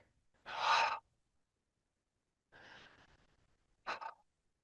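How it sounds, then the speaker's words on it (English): Three open-mouth breath cycles taken in a guided breathing exercise, heard as separate airy, breathy gusts with long quiet gaps between them, the first the loudest and the last short and sharp. "3 breath cycles, open mouth."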